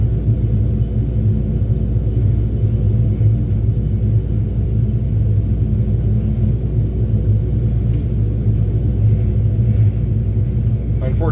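A T-2C Buckeye jet engine throttled back in a flight simulator during a landing circuit, giving a loud, continuous low rumble with a steady hum and little change in level across the whole stretch.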